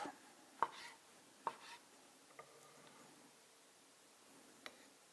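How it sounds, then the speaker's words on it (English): A knife slices through mango on a cutting board, giving a few soft, separate chopping taps with quiet pauses between them in a hushed kitchen. "And then here we just slice it up."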